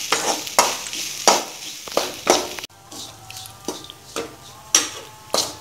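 Coconut fried until brown in a pan, stirred with a utensil that scrapes and taps the metal in a steady rhythm over a soft sizzle, close by.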